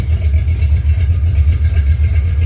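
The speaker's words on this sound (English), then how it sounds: "They're a good bit loud, but it also sounds good when sitting here idling." A 1974 Camaro V8 with a mild cam, headers and twin Flowmaster Super 10 mufflers idles with a loud, deep, lumpy rumble, a steady pulsing exhaust note heard up close with no talking.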